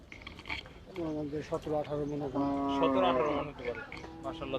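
A huge water buffalo gives a deep, drawn-out bellowing moo up close, with people's voices around it at the Gabtoli cattle market in Mirpur, Dhaka.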